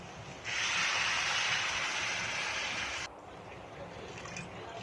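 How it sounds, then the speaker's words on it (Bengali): Water poured into a pot of egg biryani with fried rice and potatoes, a sudden loud rushing hiss and splash that holds for a couple of seconds and then drops to a quieter simmer. "এরপর দিয়ে দেবো জল"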